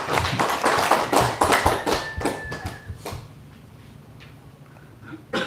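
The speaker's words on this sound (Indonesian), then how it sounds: "Tepuk tangan dulu untuk kita sebagai orang Batak" Scattered audience clapping at a book launch in Samosir, a burst of hand claps and taps that is loud at first, then thins out and fades to quiet after about three seconds, with a few late claps at the end.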